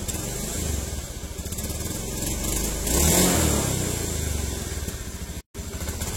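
A Honda Beat fuel-injected scooter engine idles and revs unevenly up close, stuttering at low revs, its low rumble wavering and sputtering rather than running smoothly.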